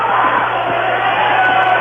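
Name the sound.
basketball fans of both schools cheering together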